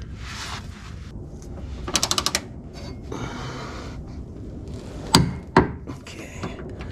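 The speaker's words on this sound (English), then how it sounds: "I'll use the torque wrench to tighten it to 118" Torque wrench ratcheting on a Porsche 996 front control arm bolt, short bursts of rapid metallic clicks followed by a couple of sharp clacks, close up over low workshop background noise.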